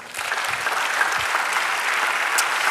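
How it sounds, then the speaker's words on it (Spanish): Church congregation applauding praise to the Lord during a Spanish-language sermon on pride, a steady dense clapping that fills the room for the whole stretch, with faint voices mixed in. "Dale un aplauso al Señor"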